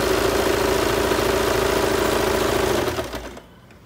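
Close sewing machine running steadily as it stitches fabric for palazzo pants, then slowing and stopping near the end.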